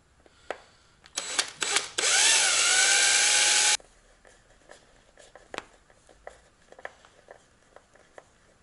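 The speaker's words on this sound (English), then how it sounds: "Drilling into a battery." A loud power drill whirs for about two seconds while drilling into a lithium battery, its pitch bending as it bites in, surrounded by scattered clicks, taps and handling clatter.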